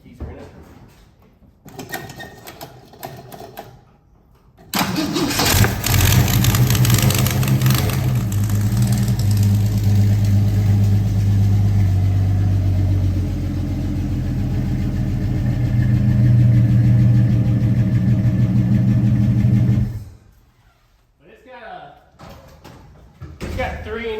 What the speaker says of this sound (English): It's got 3-inch exhaust with a Flowmaster on it because our eventual goal is to put a bigger engine in it.